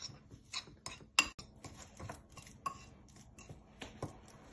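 Homemade seasoning is mixed into fish stuffing in a bowl, with scattered clinks and scrapes of a utensil against the dish, close and fairly quiet, irregular taps and stirring knocks.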